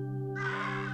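A bird in the Monument Valley puzzle game lets out a single harsh, sustained caw-like screech when tapped, loud and close over a steady musical drone.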